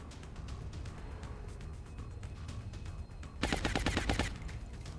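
Rifle gunfire from soldiers in the turn-based strategy game XCOM: Long War: a rapid, loud burst of shots rattles out near the end, following a steady low rumble of ambient game sound.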